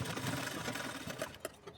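A sewing machine runs a steady seam through folded blouse fabric, with a close, continuous mechanical whir and a few small knocks near the end and no talking.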